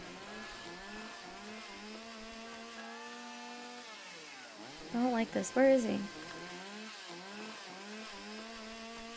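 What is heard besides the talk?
chainsaw running in a video game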